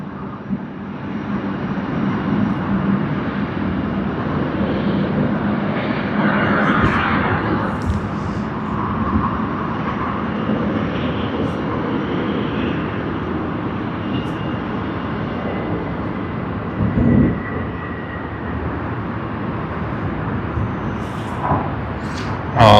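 Delta airliner in its 100-year livery accelerating on the takeoff roll at Sydney Airport, a steady distant jet roar that swells slightly, with faint voices in the background.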